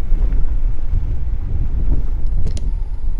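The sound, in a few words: wind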